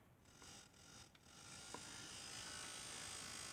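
A homemade DIY tattoo machine runs at 3 volts with a steady, faint electric buzz and high whine that grows slightly stronger after the first second and holds evenly to the end.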